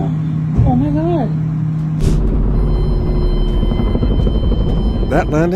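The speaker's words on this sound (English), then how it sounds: "That's a helicopter crashing after engine failure in January 9th, 2021 in Albany, Texas." A helicopter with engine failure comes down in Albany, Texas, in January 2021, its low rumbling engine and rotor noise steady and fairly loud, with voices over it and a sharp burst partway through.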